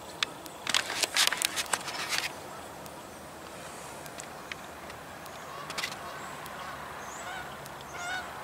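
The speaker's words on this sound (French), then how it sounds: "Là-bas, c'est des bernaches" A flock of Canada geese honks in a burst of loud, overlapping calls early on, then a few scattered honks follow over a steady outdoor background hiss, heard at a moderate distance.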